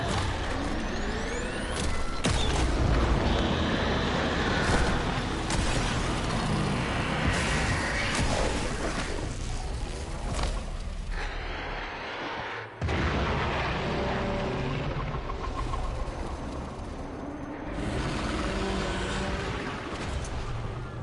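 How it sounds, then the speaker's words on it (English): Explosions and booming blasts in the video game Warframe, loud and sustained across the whole stretch, with dense rumbling bursts, a brief dip partway through and continuing heavy combat noise after. "There should be useful detritus falling from the explosion."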